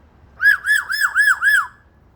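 Parrots give a run of five loud, close, rising-and-falling squawks in quick steady succession, each a bright warbling call, then fall silent.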